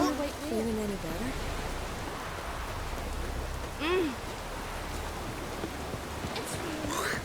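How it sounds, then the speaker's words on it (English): Steady rain hisses throughout a scene in the video game The Witcher 3, a constant soft wash of noise, while voices speak briefly over it. "It's raining. Put on your tunic."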